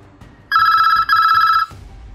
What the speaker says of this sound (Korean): 바지 주머니에서 계속해서 울리던 휴대전화